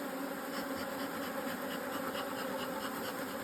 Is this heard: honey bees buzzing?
yes